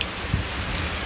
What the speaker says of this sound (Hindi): देख लो बारिश